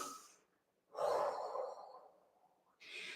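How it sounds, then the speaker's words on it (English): Breathing during a HIIT and strength workout: one long, loud, close breath lasting about a second, framed by quieter inhales and exhales, with no speech. "And breathe."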